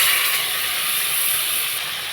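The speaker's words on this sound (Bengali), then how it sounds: "মশলাটা একটু কষিয়ে নেব।" Spices frying in a pan for a rohu fish and potato curry, a bright, continuous sizzling hiss that stays steady throughout with no voices.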